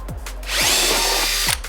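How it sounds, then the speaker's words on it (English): Power drill boring out rivets on the front bumper of a facelift Mazda MX-5 Miata NB, two short close whirring bursts followed by one sustained loud grind lasting about a second. "drill the rivets out of the other side"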